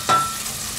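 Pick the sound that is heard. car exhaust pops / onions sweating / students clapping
onions sweating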